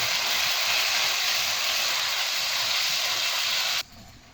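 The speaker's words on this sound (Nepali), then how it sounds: "त्यसपछि मजाले यसलाई फ्राई गर्छौँ।" Bako curry sizzling as it fries in a pan, a steady close hiss that cuts off abruptly near the end.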